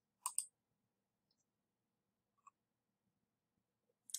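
Computer mouse clicks in a quiet room: a crisp double click near the start, a tiny tick midway and another sharp click at the very end, all short and close against near silence.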